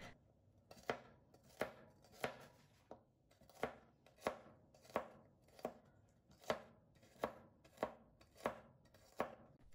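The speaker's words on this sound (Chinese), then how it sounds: "少许的几瓣大蒜，我们将其切一切。" A knife chops through a few garlic cloves on a board, about a dozen crisp, evenly spaced strikes at a steady, unhurried rhythm, close and clear with no talking.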